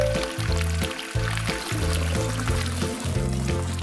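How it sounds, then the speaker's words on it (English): Warm water pours steadily from a container into a glove, a continuous gurgling trickle with slight splashy fluctuations and no talk. "Dad's got a glove, and he's filling it up with some warm water."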